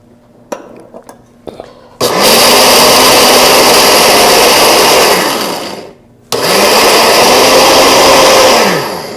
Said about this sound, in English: I'm going to put this into the blender, and we're going to grind them.